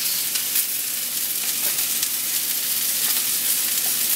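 Cremini mushrooms sizzling in a hot pan for chicken Marsala, a loud, steady close crackle and hiss with occasional sharper pops, no talking over it.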